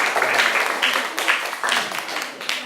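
A classroom of students claps for a classmate in a quick, scattered round of applause, with a teacher's voice talking over it.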